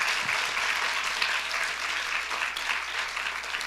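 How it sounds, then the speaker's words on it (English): A crowd at an Eashwaramma Day celebration gives steady, dense applause that keeps going without a break, heard from within the audience. "Can we just have an extra round of applause for Nimi, please?"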